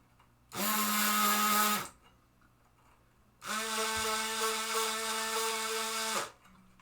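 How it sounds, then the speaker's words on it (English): A Dremel rotary tool whines at high speed in two separate bursts, a short one and then a longer steady run, close and loud with quiet pauses between, during a relay board rebuild for a 1970 Williams pinball machine. "another reason why I like this tool is because the Dremel brand is really an awesome tool. It doesn't bog down."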